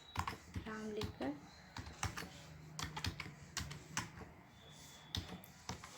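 Quick bursts of keystrokes on a computer keyboard, irregular and close, with a faint voice-like hum underneath.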